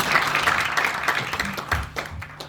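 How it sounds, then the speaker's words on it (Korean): Steady audience applause at a year-end gathering of the Unam Syngman Rhee school, many hands clapping continuously at moderate volume throughout, with no speech over it. "다시 한번 뜨거운 박수를 부탁드리겠습니다"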